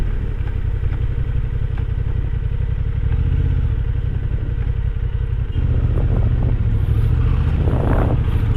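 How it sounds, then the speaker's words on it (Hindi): Several motorcycles ride along a mountain road between Kafnu and Pin Valley, producing a continuous loud engine drone with rough mechanical clatter that swells and grows busier toward the end. No voices are heard. "ये बाइकर्स आपस में एक दूसरे को सिग्नल दे रहे हैं, पूरा झुंड आया हुआ है"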